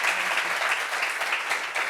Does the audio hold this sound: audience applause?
yes